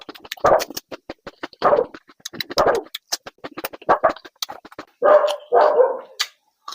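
A single dog barks alone, letting out a string of sharp, close barks in irregular bursts with short pauses between them.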